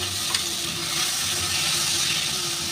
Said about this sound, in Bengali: তেলে অল্প একটু লবণ ছিটিয়ে আমি দিয়ে দিচ্ছি এই যে আদা রসুন আর কাঁচা লঙ্কার পেস্টটা